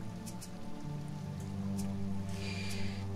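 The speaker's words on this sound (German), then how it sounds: "es regnet hier wirklich ununterbrochen fast" Rain falls steadily in the survival video game Sheltered, a continuous patter of drops on a surface over a low game music bed, with no talking.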